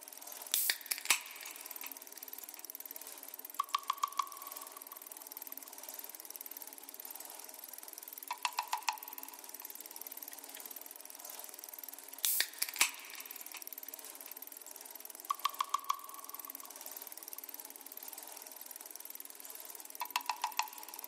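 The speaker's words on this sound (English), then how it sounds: "It's made up from a can opening, a loop from my Monty Booker sample pack, and 2 separate recordings of bicycle wheels." Percussion loop built from a can opening, a sampled drum loop and two recordings of bicycle wheels: clustered clicks, ticks and metallic rattles recur roughly every four seconds over a soft continuous hiss, no voices.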